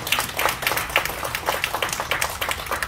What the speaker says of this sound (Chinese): 再一次把掌声送给我们的会长。